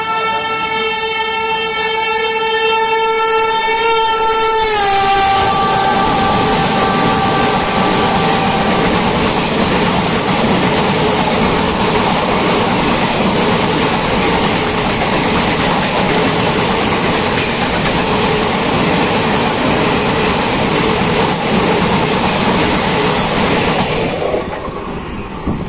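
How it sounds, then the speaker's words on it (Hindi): The Garib Nawaz Express running from Ajmer to Kishanganj speeds through a station, opening with a long blaring horn, then a loud, continuous roar of wheels and carriages rushing close by for over twenty seconds. "अजमेर से चलकर किशनगंज को जाने वाली गरीब नवाज एक्सप्रेस का स्पीड व्यू"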